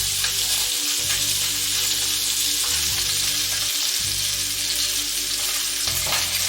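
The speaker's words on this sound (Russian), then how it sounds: "На одной стороне обжарили, переворачиваем на другую сторону" Salmon fillet frying in a pan with a little oil, a steady loud sizzle running throughout with brief dips and flares as the fish is shifted and turned, no voices.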